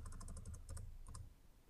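Rapid keystrokes on a computer keyboard as PowerShell commands are entered, a quick run of close clicks, a brief pause, then a few more taps over a low background hum.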